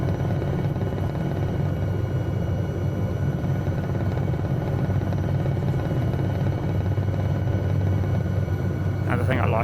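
An Aérospatiale Lama helicopter's main rotors and turbine produce a loud, steady, close-up droning rumble with a constant rhythmic beat that continues without a break.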